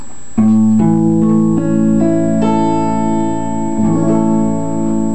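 Barre chords strummed several times on guitar, each a bright ringing stack of notes that sustains, with fresh strums at a slow irregular pace and no talking.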